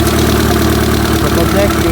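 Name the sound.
car engine idling without exhaust, catalytic converter removed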